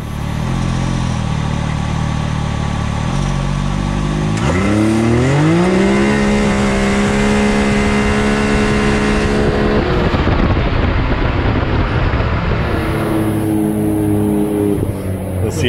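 A big-turbo four-wheel-drive car with an aftermarket exhaust launches hard from a standstill to 60 mph, its engine note climbing steeply through the gears, loud and close, then backing off as the driver lifts early.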